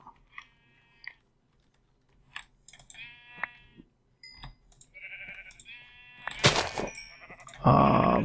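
Sheep bleat in a video game as they are slaughtered: short separate bleats with chewing-like clicks and crunches between them, building to louder, denser noise near the end, with no talking.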